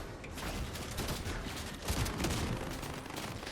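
Automatic weapons in Fortnite spray in dense, overlapping bursts, a loud continuous rattle of rapid gunfire with heavier thuds mixed in and no voices.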